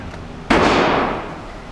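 A single loud firearm gunshot at target practice cracks sharply once, then rings and decays for about a second over a quiet outdoor background.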